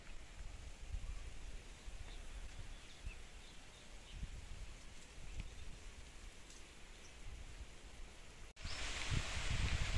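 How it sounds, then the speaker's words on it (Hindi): Soft, steady patter of light rain just beginning on leaves and surfaces outdoors after Navratri, with faint birds in the background and a brief louder rush near the end. "तो अभी हल्की सी बारिश शुरू हो गई है"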